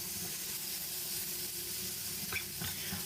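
Minced pork and oyster mushrooms stir-fried in a pan for a Thai basil glass noodle dish, a constant hissing sizzle with a few scraping stirring strokes near the end, close and steady.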